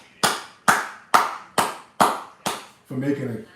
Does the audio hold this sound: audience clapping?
yes